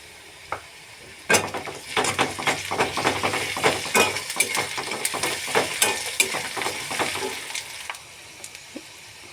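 Ginger-garlic paste hits hot oil in a pan with a sudden loud sizzle, then steady frying crackle under repeated scraping stirs of a spatula, close and continuous, tapering near the end.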